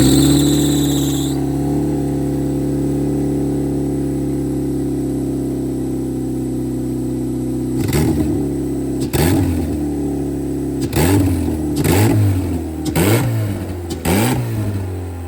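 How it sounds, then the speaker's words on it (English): A turbocharged Mazda Miata engine idles steadily with a low, even drone, then revs sharply several times in quick bursts, rising and falling. "Miata started up perfectly first time."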